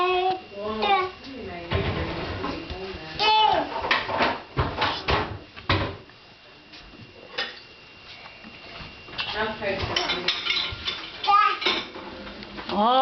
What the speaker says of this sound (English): Oh, Grandpa's doing the dishes